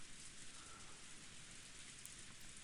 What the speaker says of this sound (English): The rain has finally started pouring down in earnest, hasn't it?